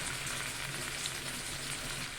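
Cauliflower, potato and peas fry in a pan with a steady, dense sizzle that stays loud and close throughout, with no voices.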